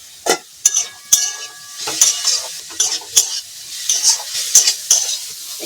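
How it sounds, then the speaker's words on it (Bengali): A spatula stirs snake gourd frying in a pan, producing repeated close metallic clinks and scrapes over a light, steady sizzle. "এদিকে চিচিঙ্গাটা আরেকবার নেড়ে দিই"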